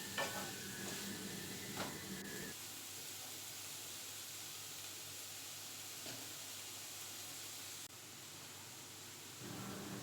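Cabbage with salt and chopped onion stir-fries in a pan for chicken chowmein, a soft steady sizzle with occasional stirring scrapes and a brief louder clatter at the start.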